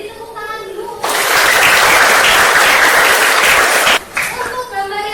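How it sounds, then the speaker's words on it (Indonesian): Classroom of children breaking into loud, dense clapping for about three seconds, then stopping abruptly, with a teacher's voice speaking before and after. "Beri tepuk tangan dulu."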